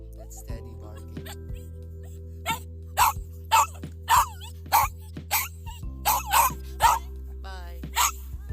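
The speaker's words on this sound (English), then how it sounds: "That's Teddy barking." A Shih Tzu named Teddy lets out a run of about a dozen quick, high barks and yips, close by, over a steady low background hum.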